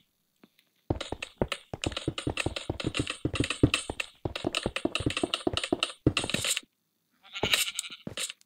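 Minecraft sheep bleat in a survival game, a dense run of short repeated bleats and clicky game sounds in quick bursts with brief pauses, close and loud, with no talk over them.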